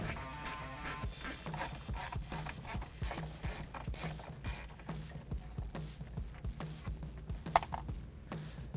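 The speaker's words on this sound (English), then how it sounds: "you can use the same ratchet, just add an extension to it to make it a little easier" Ratchet with an extension backing out 7mm dash screws on a 2015-2019 Ford F150, rapid close clicking in a steady rhythm that slows and fades toward the end, no speech.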